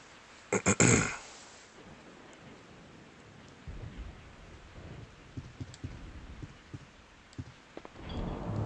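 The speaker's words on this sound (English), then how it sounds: "I woke up to the sound of falling rain." Rain and thunder from the Resident Evil 3 survival horror game: a sharp crack of thunder at the start, then a soft steady hiss of falling rain with scattered low rumbles and a rising roll near the end.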